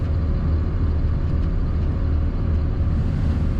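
A 2004 Dodge Ram 3500 Quad Cab Laramie SLT dually pickup cruises smoothly down the road, a steady low engine and tire rumble with constant road noise and no voices.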